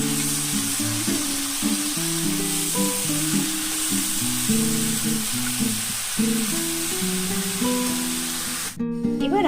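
Washed vegetables with salt frying in a pan for Bengali shukto crackle with a steady, close sizzle, while a melodic music track plays underneath and ends with a clatter.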